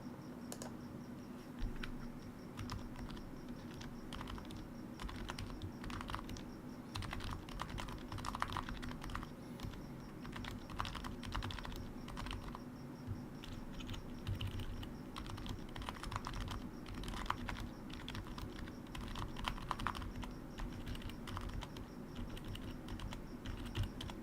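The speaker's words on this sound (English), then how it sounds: "that was terrible typing, but it's so quiet" Continuous quiet typing on a Dropbear60 Split60 prototype split keyboard, a dense, uneven stream of soft key clicks for over twenty seconds with no talking.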